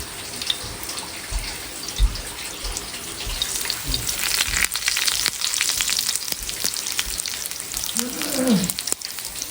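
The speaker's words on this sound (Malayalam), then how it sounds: "അതിൽ കുറച്ച് കടുക് ഇട്ട് കൊടുക്കുക" Mustard seeds and curry leaves fry in hot coconut oil, a close, busy sizzle with scattered pops and crackles, mixed with splashing water and stirring noises.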